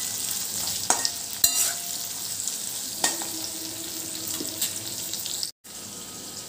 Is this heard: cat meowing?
no